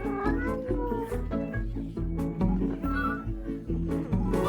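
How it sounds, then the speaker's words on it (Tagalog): A kitten meows over and over in a quick, steady rhythm, close and clear, with each short cry following the last almost without pause. "Tingnan mo ang mga cute na yan. Isang tuta at kuting."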